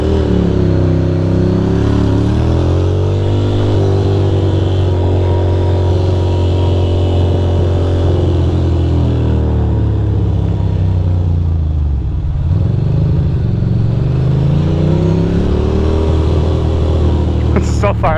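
A Ducati motorcycle engine runs in first gear with a steady low drone and a dip and recovery midway, heard continuously at close range; someone talks over part of it.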